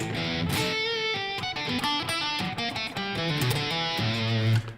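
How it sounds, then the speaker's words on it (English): Guitar running through a Marshall amp with a Boss DS-1 distortion pedal in front, a bright, thinned-out tone with a quick run of picked notes and chords that ends on a held low chord. "And then I put like a DS1 in front of it"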